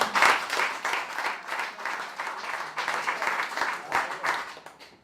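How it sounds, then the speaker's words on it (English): Audience at a regional business awards ceremony in Cape Town applauds an award recipient, moderate clapping with a steady patter of hands, fading gradually toward the end. "Let's give them a hand of applause."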